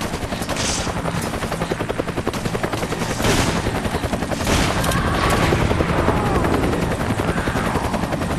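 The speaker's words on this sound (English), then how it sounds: "Gunfire." Rapid bursts of gunfire in the video game Resident Evil 5 rattle over a constant heavy mechanical roar, like a helicopter, dense and loud throughout with no talking.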